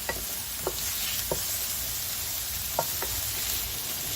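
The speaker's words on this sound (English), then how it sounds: "Now it has to get sauteed for at least 10 minutes." Chopped onion, ginger garlic paste and green chilies sauté in a pan, giving a steady sizzle with a few sharp stirring scrapes and clicks. No one talks.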